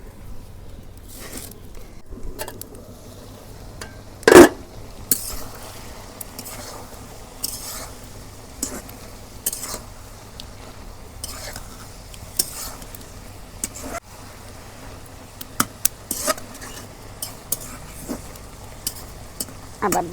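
Beef tripe frying in oil in a pot, with a soft continuous sizzle under scattered scrapes and clinks of a stirring utensil against metal, one louder knock partway through, and occasional faint background noise.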